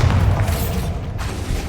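The Bombarda blasting spell goes off in Hogwarts Legacy, a loud, low booming burst with rumbling mechanical rattle that fills the short moment without any talk.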